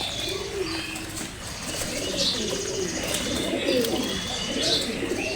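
Pigeons coo in soft, low repeated calls close by, with occasional wing flutters and faint chirps over a steady background.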